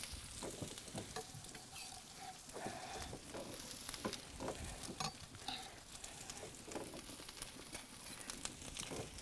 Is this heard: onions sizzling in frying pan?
yes